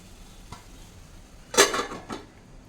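A metal lid clanks down onto a pan of ivy gourd curry in a home kitchen, one sharp rattling clatter followed by a smaller settling knock, close and alone.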